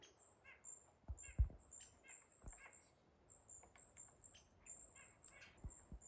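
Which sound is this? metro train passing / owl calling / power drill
owl calling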